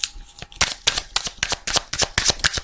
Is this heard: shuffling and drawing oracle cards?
yes